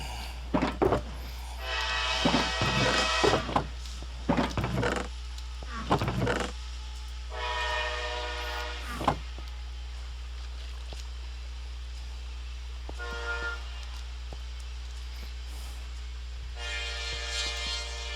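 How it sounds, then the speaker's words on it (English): A Minecraft train rumbles past beneath several loud horn-like blasts, with a low steady drone throughout and the sound rising and fading. "I'll wait a second while the train passes."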